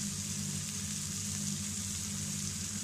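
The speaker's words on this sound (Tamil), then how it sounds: "நல்லா வதங்கட்டும்" A prawn curry base of onions and masala sautés in a pan, giving a continuous, even hiss and soft sizzle under a low steady background hum, close and moderately quiet.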